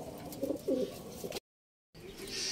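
A racing pigeon coos in a few soft, low rounded calls close by, followed by a brief cut to silence and then faint ambient noise.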